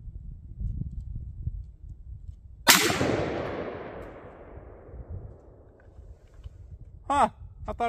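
A 5.56 rifle fires a single sharp shot at a cantaloupe set on a stump 15 yards away outdoors, a loud crack with a decaying echo, followed by brief voices.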